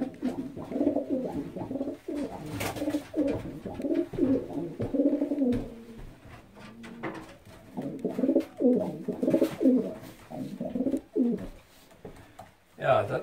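A breeding pigeon coos close by in repeated soft, throaty phrases with brief pauses between them, while a person talks quietly at times.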